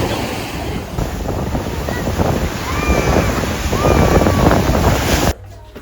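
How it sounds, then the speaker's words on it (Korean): Strong wind buffets the microphone over the rushing wash of ocean waves at a beach in Sokcho, loud and continuous, cutting off abruptly near the end. "바람이 엄청 부는데? 파도가 아니 파도가 지금 파도풀이야."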